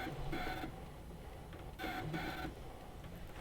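A ScanNCut cutting machine working through scrap vinyl gives faint, quiet whirs of its motor in short bursts with brief pauses between passes.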